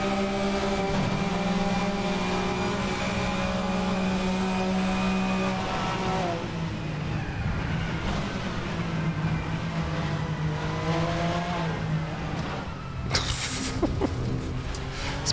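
Race car engine in a sim racing video game, a loud steady drone whose pitch holds high, drops and climbs again through a braking zone, with a burst of harsher noise near the end.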